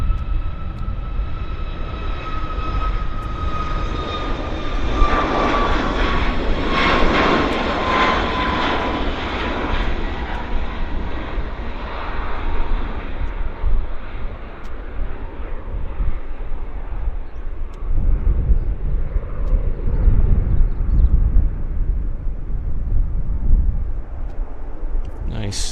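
A WestJet airliner in new colours with a decorated lower fuselage accelerates down the runway at Vancouver Airport, its engine roar steady and loud throughout, with a rising tonal whine early on and continuous broadband rumble.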